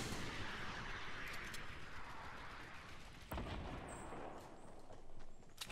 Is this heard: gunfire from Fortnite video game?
yes